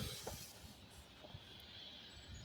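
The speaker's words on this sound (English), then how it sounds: "sorry about the noise if you can hear a hissing in the background." A steady broadband hiss of sandblasting drifts over from a nearby site beside a boat, continuous and fairly faint.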